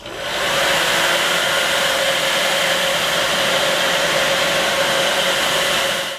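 A hair dryer blows steadily on airbrushed paint on a shad-pattern crankbait lure, a loud, constant rushing whoosh that starts abruptly and runs unbroken for several seconds before cutting off.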